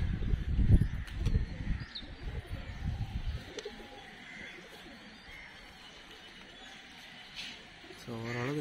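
Karna pigeons cooing and fluttering as they take flight, with low soft coos and wingbeats loudest at the start and fading into a quieter background, while a person talks briefly near the end.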